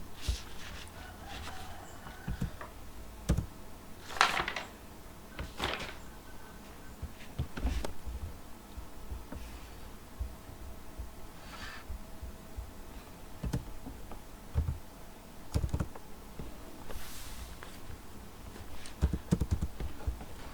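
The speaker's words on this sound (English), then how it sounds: "So I am typing here" Irregular clicks of keys being typed, close by, with scattered pauses between short bursts of keystrokes over a low background hum.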